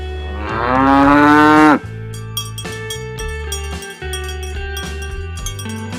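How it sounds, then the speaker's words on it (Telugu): A cow lets out one loud, drawn-out moo close by, followed by a soft chiming musical backing. "ఆవు."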